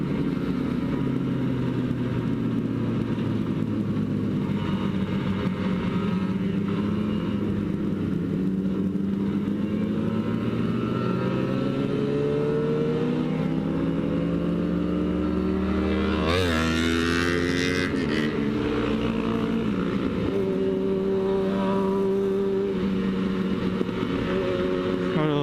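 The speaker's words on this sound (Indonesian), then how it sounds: "banyak mobil lewat" Cars and motorbikes pass along a road, their engine noise swelling and fading continuously, with one louder vehicle sweeping close by partway through; no speech.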